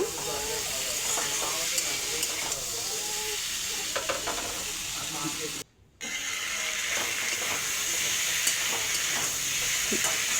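Fried potatoes and pointed gourd are stirred and sautéed in a hot pan, a constant sizzle with spatula scrapes and stirring clatter, briefly dropping out midway before resuming.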